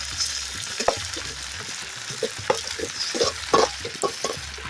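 Tomatoes sauté in a pan with a soft, crackling sizzle, punctuated by irregular clacks and scrapes of a stirring spoon, close by and without talk.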